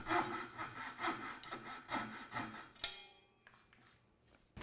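A hand saw rasps through wood in rhythmic back-and-forth strokes, cutting dovetail waste for a blanket chest, about seven close strokes, then stops with a short clatter and faint rustling.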